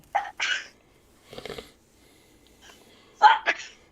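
Two quick sneeze-like bursts open the clip, followed by a short stretch of murmured voice and then another pair of sharp exhalations near the end.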